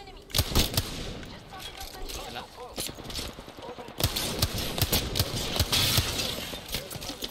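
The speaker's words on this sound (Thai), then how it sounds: "ยิงอะไรกันอ่ะ" Rapid gunfire bursts in Apex Legends, sharp repeated shots in clusters near the start and again from the middle onward, mixed with game noise and occasional voice chatter.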